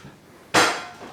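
Pots and dishes clatter in a home kitchen during cooking: one sharp, loud metallic crash rings out over faint background noise, then decays over about half a second.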